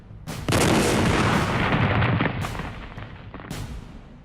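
A large explosion sound effect: a sharp blast followed by a long rolling, crackling roar that fades slowly, then a smaller second burst near the end.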